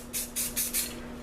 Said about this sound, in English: So I'll spray some more yellow.